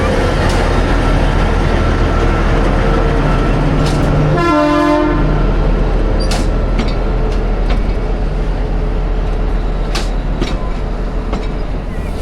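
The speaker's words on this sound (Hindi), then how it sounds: "ट्रेन और आ चुकी है।" Shimla-Kalka toy train arriving at a station: a steady rumble of rolling rail cars runs throughout, with a brief horn toot rising near the middle and a few sharp clicks and clanks over the continuous noise.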